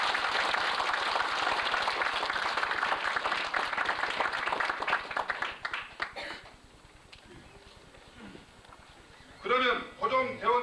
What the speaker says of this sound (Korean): 이의가 없으시면 박수로 통과시켜 주시기 바랍니다.